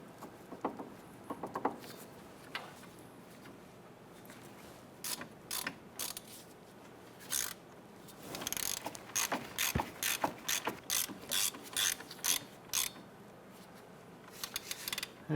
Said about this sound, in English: we're going to come back with our ratchet and we're going to go ahead and snug those down.